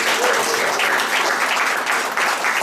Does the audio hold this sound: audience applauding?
yes